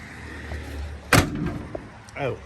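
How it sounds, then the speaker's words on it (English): An older vehicle's door slams shut once, solid and close, landing sharply over a low outdoor rumble, with faint faraway noises afterward. "door slam solid"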